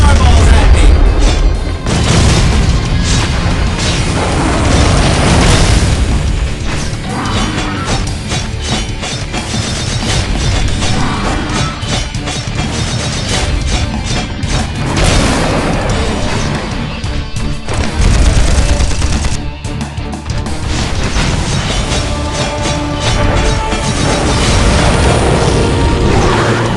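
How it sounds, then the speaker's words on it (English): Drones shooting fireballs amid explosions in the mobile action game Implosion, a loud, dense, continuous roar of blasts, booms and crashing impacts with a voice speaking over it at times. "Now they're shooting fireballs at me!"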